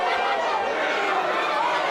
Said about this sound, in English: This crowd is electric right now